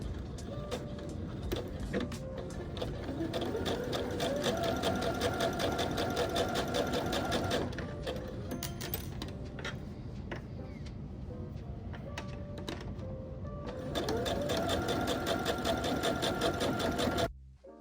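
A domestic sewing machine runs in fast, steady bursts while stitching and backstitching darts on a long sleeve knit top, motor whirring with rapid needle ticking, pausing briefly mid-way before resuming, then stopping abruptly.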